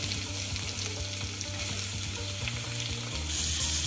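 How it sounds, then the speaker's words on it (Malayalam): Thinly sliced onions frying in hot oil with garlic and ginger, a steady dense sizzle close by with faint stirring scrapes, no voices, throughout. "ഇതിലേക്ക് ഞാനൊരു വലിയ നാല് സവാള കനം കുറച്ച് അരിഞ്ഞെടുത്തതാണ് അത് ഇതിലേക്ക് ആഡ് ചെയ്യാം"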